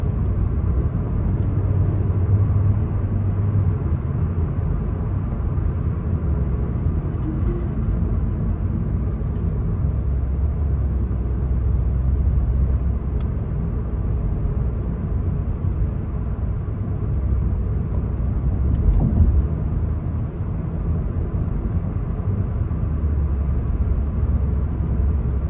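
A car cruises at the speed limit through traffic on Prince Turki Road in Riyadh, near the King Abdullah Financial District. A steady, fairly loud low road rumble and engine hum fill the cabin throughout, with no voices.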